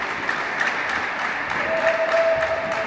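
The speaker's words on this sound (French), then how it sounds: "Avec un public en feu qui applaudit." A tennis crowd applauds steadily after the first set of a match, won 6-2, filling the court with dense, continuous clapping, with a faint sustained tone appearing partway through.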